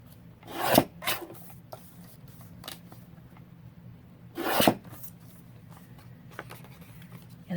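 Paper is trimmed for a handmade Halloween journal in a few sharp, rasping cuts close by, with two louder strokes separated by quieter scraping and rustling.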